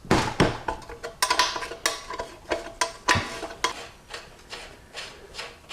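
Metal tool clinks and scrapes while the three 9/16-head bolts come off the servo of a Powerglide drag-race transmission, a close run of sharp, irregular clacks and rattles with no talking.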